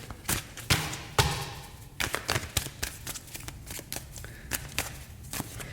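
Tarot cards being shuffled by hand during a reading, a run of crisp riffling slaps and papery flutters in irregular bursts, close and moderately loud with no talking.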